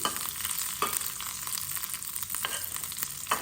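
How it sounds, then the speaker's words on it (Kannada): Dried fish roasts in a pan with finely chopped curry leaves, giving a soft, steady sizzle with a few brief stirring scrapes, fairly quiet and with no voices. "ಬೇವಿನ ಸೊಪ್ಪನ್ನು ಸೇರಿಸ್ಕೊಂಡು ಚೆನ್ನಾಗಿ ಇದು ರೋಸ್ಟ್ ಮಾಡ್ಕೊಳ್ಳಿ"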